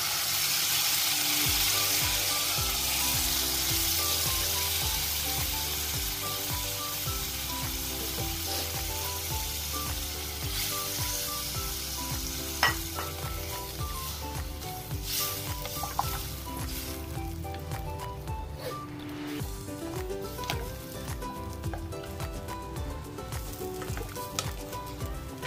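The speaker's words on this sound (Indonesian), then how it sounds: "Sekarang saya akan masuk ke santan ya." Coconut milk hits a hot pan for a Kelantan dried fish curry, giving a loud steady sizzle and frying hiss with occasional stirring clinks, close up and continuous for the whole stretch.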